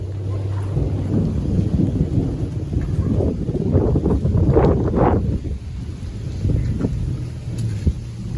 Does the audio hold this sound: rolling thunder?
yes